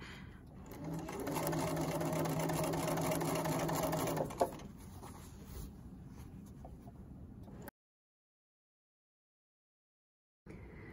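A sewing machine stitches a seam on pajama pants in a steady run for about four seconds, then quieter handling noises follow before a stretch of silence and a faint return at the end.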